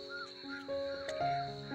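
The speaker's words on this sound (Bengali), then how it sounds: "আর কিছু কিছু পাখির ডাকছে যেখানে।" Birds call from a forest around a quiet hill village in Darjeeling, with steady, tonal, repeated calls sounding fairly near over a soft natural background and no speech.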